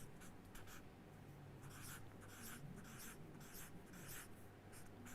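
Pen writing numbers on paper or board during a maths lesson, a faint, rhythmic series of scratchy strokes in short repeated bursts, close and quiet, with no voices.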